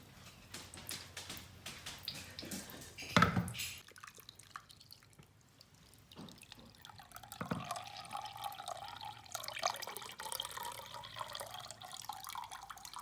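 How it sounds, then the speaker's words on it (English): Cabbage smoothie being poured and filtered through a coffee filter in a funnel: faint intermittent drips and trickling liquid, quiet and close, with one sharper splash early and soft gurgles later. "pour it through a coffee filter in a funnel"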